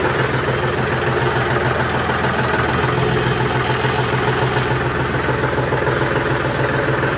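A John Deere 5210 Gear Pro ABCD tractor, a 2024 model, runs steadily at idle outdoors. The engine note is a low, even rumble that holds constant throughout, with wind noise mixed in and no talking.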